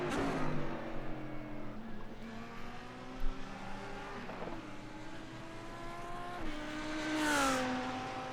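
Engine of a GT3 race car in a racing game, revving up through the gears with rising whine and quick shifts, steady and fairly close, a brief tire squeal near the end.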